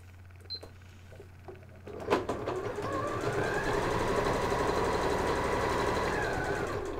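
A sewing machine runs steadily while top stitching a pocket placemat, its rapid even stitching starting after a few faint clicks and continuing close and clear.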